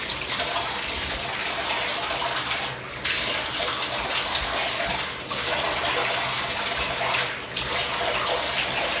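Warm water gushes steadily from a tap into a tub or basin for leg shaving, a continuous close hiss broken by a few brief dips, with no voices.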